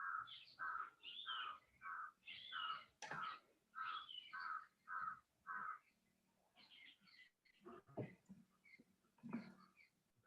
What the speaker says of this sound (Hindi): कौवे बोल रहे हैं तो क्या